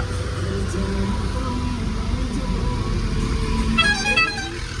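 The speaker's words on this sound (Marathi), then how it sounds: "बघा रिक्षाला काय हॉर्न वगैरे एकदम नाद बसवलं" Auto-rickshaw custom horns toot in melodic, tuned bursts near the end over a steady din of traffic and engine noise.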